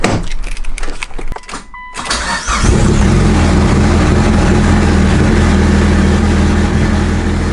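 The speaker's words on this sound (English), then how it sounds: "So I'm gonna go ahead and crank my car" Loud 500-whp Mitsubishi Evo 8 with a coil-on-plug kit cranking over in a garage, a short stuttering starter whir, a brief pause, then the engine catching and settling into a heavy, steady roaring idle very close by.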